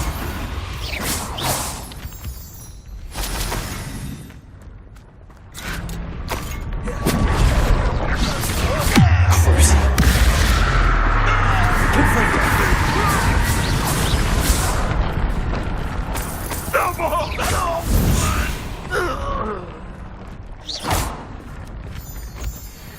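Confringo spell explosions from the video game Hogwarts Legacy set off booming, rumbling blasts. Whooshes and crashing combat noise follow, building into a dense, loud stretch in the middle, with a voice speaking over parts of it.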